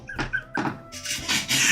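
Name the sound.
old gaming chair squeaking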